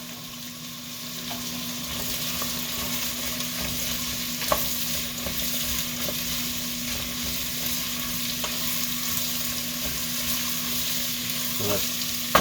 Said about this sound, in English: You can kind of hear that sizzling away on a high heat.